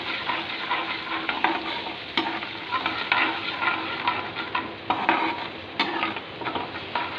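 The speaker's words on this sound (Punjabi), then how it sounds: "ਜੋ ਦਹੀਂ ਦਾ ਘੋਲ ਬਣਾਇਆ ਸੀ ਇਸ ਨੂੰ ਪਾ ਦੇਵਾਂਗੇ ਇਸ ਨੂੰ ਹਿਲਾਉਂਦੇ ਰਹਾਂਗੇ" Yogurt mixture cooks with stuffed okra in a hot pan, a loud continuous sizzle under constant scraping stirs, with a couple of sharp utensil taps against the metal.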